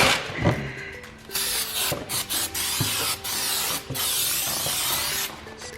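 Cleaner sprays onto brand-new brake rotors in short bursts, each a sharp hissing spritz, with a quieter rub before the first and gaps between repeated sprays.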